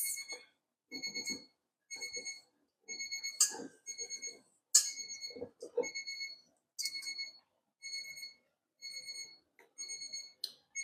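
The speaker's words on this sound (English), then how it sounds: "And there's my timer to check my cakes." A kitchen timer goes off while cakes bake, beeping in steady repeated bursts of high electronic tones, close and clear, with faint kitchen clatter between the beeps.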